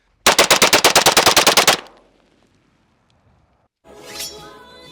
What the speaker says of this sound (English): I'm gonna try some skeet shooting.